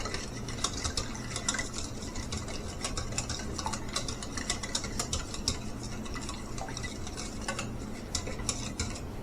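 A spoon stirs a salted mixture for garlic bread in a bowl, producing steady, close scraping and clicking against the sides in a busy, even rhythm that runs throughout.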